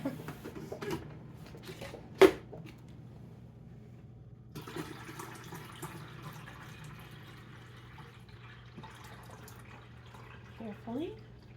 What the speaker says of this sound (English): So I'm going to put water in it.